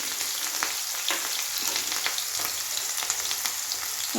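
Onions and chillies go into hot oil with cumin and asafoetida, a bright continuous crackling sizzle with small pops and the odd stir, close and steady, no speech.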